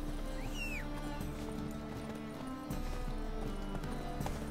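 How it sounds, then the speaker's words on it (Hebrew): Roach, a horse in The Witcher 3: Wild Hunt, clip-clops along with soft hoof steps under a continuous ambient game soundtrack, with a brief bird chirp near the start. "הנה, רואוץ, הסוס החביב שלי"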